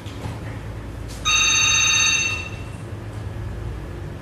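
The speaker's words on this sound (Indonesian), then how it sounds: "telepon kantor kembali berdering" An office telephone rings once in a single electronic bell burst of a little over a second, fairly loud over a constant low room hum.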